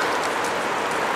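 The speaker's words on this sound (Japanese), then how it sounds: "ちょっとパラパラしてるんだけどね" Light rain patters outdoors in Osaka in an even, continuous hiss of fine drops, fairly close and unbroken.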